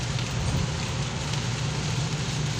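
Steady, soft rain patters down in a constant hiss with no break, fairly close and even throughout.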